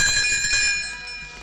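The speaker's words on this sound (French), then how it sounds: "Vous saurez que le moment est venu de tourner la page lorsque vous entendrez tinter ces petites cloches" Small bells chime together in a bright, ringing cluster, sounding clearly and alone, with the tone slowly fading as the clip goes on.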